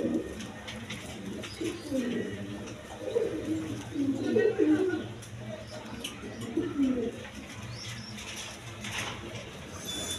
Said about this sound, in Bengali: দর্শক এখানে এক পেয়ার রেশার কবুতর আছে